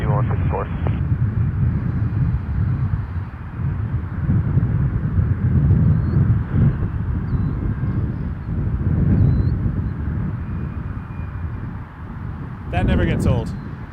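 A heavy airliner taking off at Toronto Pearson, a broad, steady jet roar with wind buffeting a distant microphone and swelling in slow waves, and brief talk near the end.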